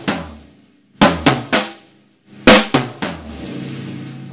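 Drum kit pattern with an extra hit slipped between two right-hand strokes, a few loud separate kit hits in short bursts with gaps between them, the last strokes leaving a lingering cymbal-like wash, heard alone without talk.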